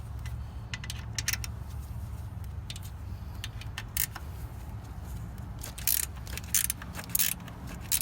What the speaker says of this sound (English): At this point, we have to tighten down this 12mm bolt.